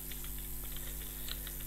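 Rapid, even clatter of fingers typing Excel VBA code on a computer keyboard, close and continuous with crisp individual keystrokes and no talking.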